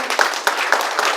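Applause from an audience at an awards gathering at the Ambassy Hotel, a fairly steady wash of clapping with a few sharper claps standing out, close and moderately loud.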